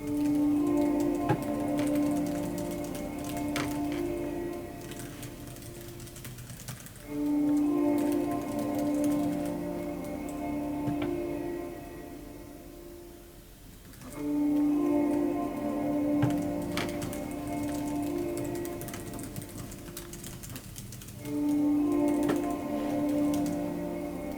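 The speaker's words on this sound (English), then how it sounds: "I just have to get on with typing now, which I'm surprisingly managing to do in these gloves" Touch typing on a keyboard while wearing vintage crochet gloves gives soft, rapid key clicks in repeating bursts over a steady tonal background, with no voices.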